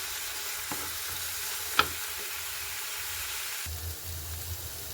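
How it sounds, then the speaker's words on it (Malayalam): Onions, tomato and green chilli sizzle in a pan while being stirred, a steady close hiss with a few light knocks of the spoon, no voices. "സവോളയുടെ പച്ചമണം മാറുന്ന വരെ ജസ്റ്റ് ഒന്ന് നന്നായിട്ടൊന്ന് ഇളക്കി കൊടുക്കാം"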